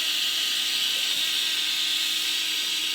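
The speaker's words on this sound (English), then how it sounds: "When the boiler has more than 90 psi in the boiler, it will lift on the safety relief valve, which it is doing now" A steam boiler's safety relief valve lifting above 90 psi, venting a steady, loud, continuous hiss of escaping steam with no break.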